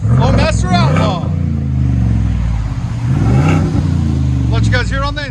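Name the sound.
Ford F-250 7.3L V8 gas engine revving with Flowmaster Outlaw exhaust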